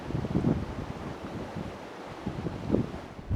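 An Oyster 595 sailing yacht makes about 10 knots through flat water in a 16 to 17 knot breeze: a steady, fairly loud rush of water and wind buffeting, with occasional surges of spray and no talking.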